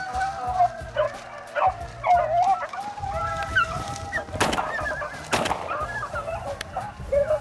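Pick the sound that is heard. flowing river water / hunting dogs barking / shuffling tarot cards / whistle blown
hunting dogs barking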